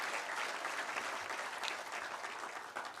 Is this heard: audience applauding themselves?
yes